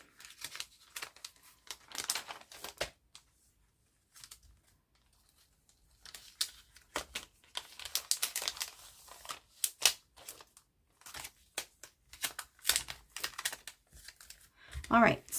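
Cellophane bags crinkle and rustle in short, close bursts while handmade DIY embellishments are packed for happy mail and swaps, with quiet pauses between handling.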